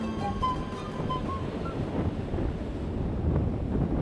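Wind rushing and sea swell breaking along the Gosan coast of Jeju's west side, a steady broad roar with microphone buffeting and no voices.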